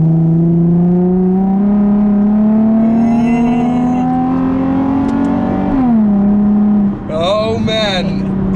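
A 2004 Nissan 350Z automatic held in manual mode pulls through a corner in second gear, its engine note rising loud and close, dipping briefly on a shift, then climbing again while someone talks over it.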